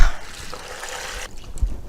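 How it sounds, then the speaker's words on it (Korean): Water pours into a stockpot of scallions and shiitake mushrooms for vegetable broth, a close, fairly loud gushing splash lasting just over a second before it stops. "1갤론에 물을 부으세요."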